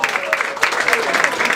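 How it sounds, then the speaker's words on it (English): Audience applause at an open mic night, a lively burst of clapping with whoops and voices mixed in. "Can we get a big round of applause?"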